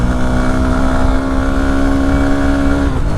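A Honda NX 200 motorcycle pulls along a high mountain road toward Keokradong in second gear, its engine droning loud and steady close by before the tone dips slightly near the end.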